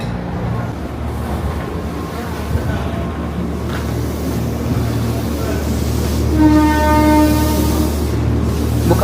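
A KCI commuter train runs between Jakarta stations toward Jakarta Kota, giving a steady, loud rumble from inside the carriage, and a sustained horn blast sounds near the end.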